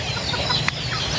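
Pet chickens cluck softly at a feeding spot beside a riverside hut, low murmuring clucks against a steady outdoor background, with one brief sharper sound.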